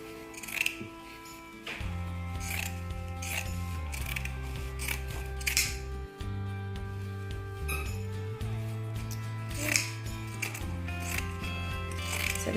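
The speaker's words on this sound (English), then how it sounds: "I'm using pinking shears. These have the zigzag cut." Pinking shears with a zigzag blade snip through excess fabric in repeated close, crisp cuts, each with a faint metallic scrape, over a quiet room with low background music.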